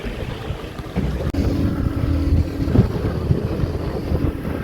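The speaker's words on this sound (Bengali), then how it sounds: "ঢেউয়ের তালে আমাদের নৌকাও দৌড়ে আমরা এগিয়ে চলেছি।" A motorboat crosses choppy sea waves off Goa between Colomb Beach and Butterfly Island, with a continuous deep engine rumble, wind buffeting the microphone and occasional thumps from the hull hitting waves.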